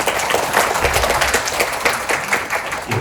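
Sustained audience applause after a presenter finishes at a Gyeonggi education administration forum debate, a full, even roar of many hands clapping close by throughout.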